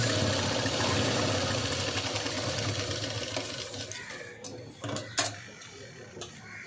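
A sewing machine whirs steadily while stitching a V-neck blouse, running close and continuous before slowing, followed by a few light clinks and taps near the end.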